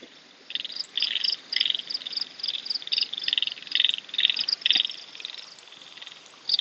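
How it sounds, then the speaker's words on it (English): Dense chorus of frogs croaking in a Penang jungle in Malaysia, rapid pulsing calls overlapping in clustered bursts, fairly close, with faint bird chirps mixed in and no talking. "Oh, you got frogs."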